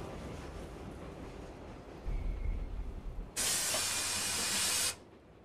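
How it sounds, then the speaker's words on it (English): A train pulling into a large station in the visual novel Tsukihime, with a low rumble and rattle of wheels slowing, then a loud sustained hiss of air brakes releasing for about a second and a half before cutting off. "The train stops at a large station for a few minutes."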